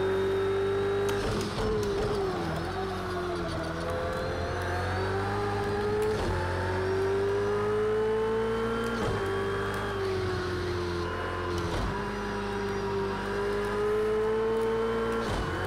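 A GT3 race car engine in Project Cars 2 at Road America drones continuously at high revs, pitch rising and dipping with gear changes and throttle through corners, loud and unbroken.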